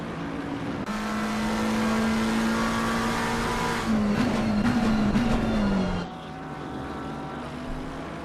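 Race car engines in a sim endurance race at Zolder, with a red and white McLaren trying to overtake around the outside. A loud, sustained engine drone wavers in pitch, then drops sharply and turns quieter near the end.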